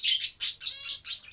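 Zebra finches chirp in quick, high, bright bursts, close and clear, several short tweets in a row with no voices.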